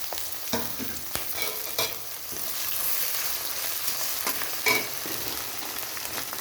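Garlic, onion, ginger and green chilli fry in hot oil, a continuous close sizzle with intermittent scraping and clinks of a spatula stirring the pan, no voices.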